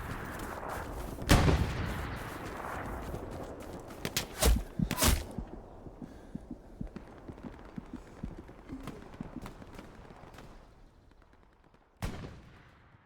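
Gunfire in the game Hell Let Loose during an infantry squad battle: a few sharp, loud shots early on, then scattered quieter distant shots and footsteps, ending with one more sharp report.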